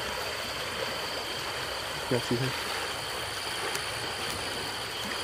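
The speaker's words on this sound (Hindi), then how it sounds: "जो आवाज़ें आ रही है यहाँ पे पानी का यहाँ पे टकराव है" Water moving and lapping outdoors makes a steady, broad rushing wash that runs through the whole stretch, with a brief spoken voice partway through.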